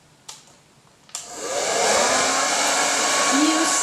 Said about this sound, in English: I've got here my hairdryer